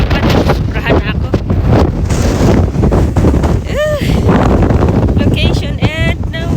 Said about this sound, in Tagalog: Grabe yung hangin. Sobrang hangin.